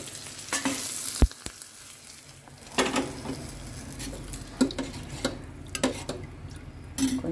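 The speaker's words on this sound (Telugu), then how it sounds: "చల్లచారు పోపేసి" Tempering (popu) sizzling as it is poured into buttermilk rasam, with a sharp crackle at the start, then steady frying sizzle and occasional clinks of a pan or ladle, close and fairly loud, with no talking.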